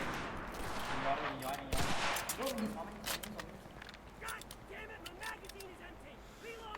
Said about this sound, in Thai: ระวังมันยิงปืนกลใส่